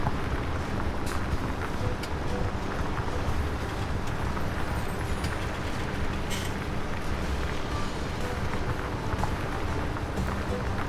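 Massey Ferguson 8732 tractor in Farming Simulator 17 on Pine Cove Farm, a steady, dense engine drone holding at an even level throughout with no pauses.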